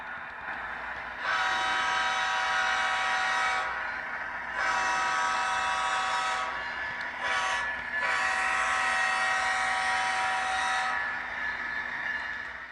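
A model Tangerine Dream GEVO diesel locomotive with a LokSound decoder sounds its horn in several sustained, tonal blasts with short gaps, over a low running hum.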